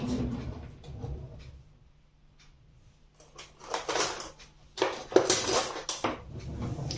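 A fork clinks and scrapes against a dish while mixing spices into a sauce for a spinach and cheese quiche, with irregular bursts of clatter that grow busier and louder toward the end.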